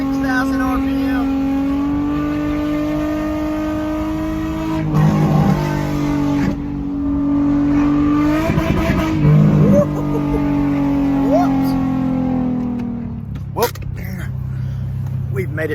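An Infiniti G35 with a worn, failing clutch revs hard at high RPM while cruising, its engine drone loud and steady with pitch swells as it accelerates, and people talk over it.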